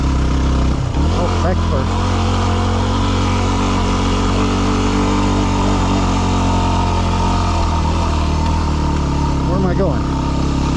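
A dirt bike engine labors in second gear up a steep mountain pass climb in Colorado, a loud, close, steady drone with brief revs and gear shifts, while a rider talks over it.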